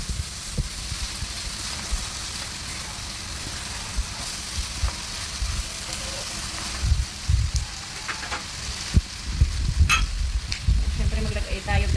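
Cooked chicken sautés in a pan with a continuous crackling sizzle, punctuated by scattered knocks and scrapes of stirring that grow busier toward the end.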